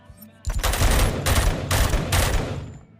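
Loud bursts of gunfire from a gun in the video game Robocop: Rogue City, three or four rapid sustained volleys close up with short gaps between them.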